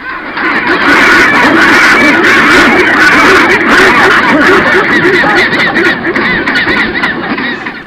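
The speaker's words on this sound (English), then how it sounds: "Penguins are gregarious, and once they begin the conversation, just like humans, they communicate louder and louder with wings flapping" A loud, dense chorus from a penguin colony in Antarctica: many birds braying and honking at once in overlapping, rhythmic calls that swell and fade without a break.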